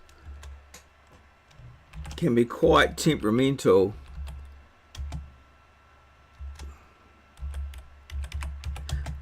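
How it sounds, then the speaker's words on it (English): Keys clack on a computer keyboard as a name is entered for an AutoCAD layout tab, short bursts of quick taps between pauses, with someone speaking over part of it. "typing in here"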